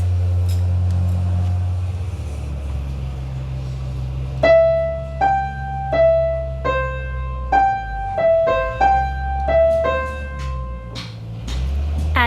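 The Last Post plays on a piano keyboard as a slow, bugle-like melody of separate sustained notes that step up and down, clear and close, over a low steady hum, with no talking.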